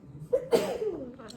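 A single sneeze bursts out close by after a short breath in, trailing into a brief vocal sound.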